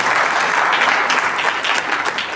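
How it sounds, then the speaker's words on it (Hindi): Strong, sustained applause from a hall audience at an agricultural development talk, many hands clapping together in a thick, even wash that stays loud throughout with no speech over it. "तालियां"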